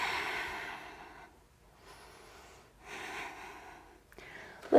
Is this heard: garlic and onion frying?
no